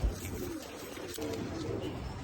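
A racing pigeon coos softly and repeatedly after returning home from a 31 km race, a low murmuring call close by over faint background noise.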